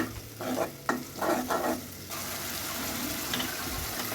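A pan of red chili, turmeric and mixed spice paste with onions sizzling steadily up close, with a few scraping stirs early on before the frying hiss carries on evenly.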